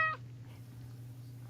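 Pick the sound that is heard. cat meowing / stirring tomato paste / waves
cat meowing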